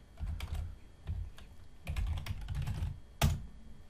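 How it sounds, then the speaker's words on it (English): Computer keyboard typing in quick bursts of keystrokes with short pauses and one sharper clack near the end, close and fairly quiet, entering commands to add a Netdata repository to Helm. "give me 1 second to type all this out"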